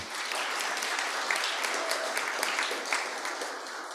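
Audience applause from a community gathering with a mayor, steady broadband clapping sustained for the whole span at moderate level, dense and even with no voices on top.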